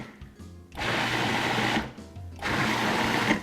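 Food processor pulsing restaurant-style salsa, with two loud whirring bursts of about a second each separated by a short pause, and quieter motor hum around them.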